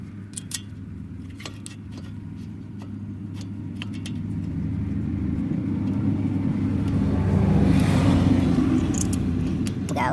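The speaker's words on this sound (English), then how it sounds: "We got a lot of cars rolling around today." Road traffic on a busy afternoon street, a steady low rumble of cars rolling past that swells toward the end as a vehicle passes close, with scattered light clinks and clicks on top.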